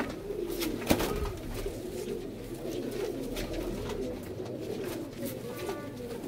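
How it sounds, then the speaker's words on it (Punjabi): A tethered pigeon coos in soft repeated low calls close by, steady throughout against a faint background hum, with a brief knock near the start and no talk. "ਆਹ ਕਬੂਤਰ ਬੰਨਿਆ ਸੀਗਾ ਉਹਨਾਂ ਨੇ"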